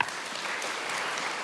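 A congregation applauds during an online church service, giving a brief, continuous burst of many hands clapping at moderate loudness.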